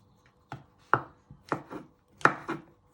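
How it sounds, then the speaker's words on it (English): A sharp knife chops vegetables on a board during chicken enchilada prep: about half a dozen crisp, close strikes, some in quick pairs, with no talking. "what I'm doing is chopping down the middle and finally slicing it"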